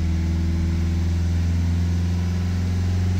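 A Ford Mondeo engine held at about 3000 RPM, droning with a constant low hum and mid-pitched tone, close and continuous without talk.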